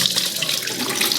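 Hot water runs from a kitchen tap in a steady, close, rushing stream while Ghana jollof rice is being prepared.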